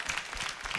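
Audience applause at a televised Armenian singing show, a steady dense clapping wash lasting under a second with no voices on top.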